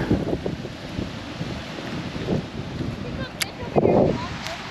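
Gusty wind buffets the microphone with low rumbling bursts at a fishing pond at Mason Valley Hatchery, while a person speaks intermittently nearby.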